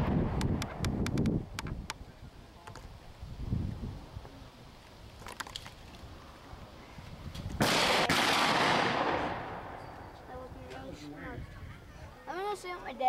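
A single loud gunshot goes off with a long, decaying roll at an outdoor shooting festival, the 161st Hollandtown Schut, surrounded by crowd chatter and people talking before and after.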